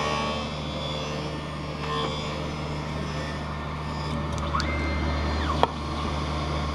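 A lens edging machine grinds a V-shaped bevel onto an eyeglass lens, giving a steady mechanical whir and grinding drone with a few faint clicks and a sharp tick near the end.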